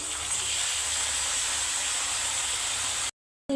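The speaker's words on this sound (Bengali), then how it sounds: "এবারে আমি চিকেনগুলো দিয়ে দেবো ম্যারিনেট করা থাকলে" Marinated chicken hitting hot oil with browned onions and whole spices, a loud, steady, close-up sizzle with dense hiss that holds for about three seconds before cutting off abruptly.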